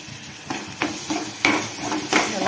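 Spinach paste is stirred in a pan with a spoon, giving repeated close scraping and squelching strokes in an uneven rhythm, with a faint sizzle underneath.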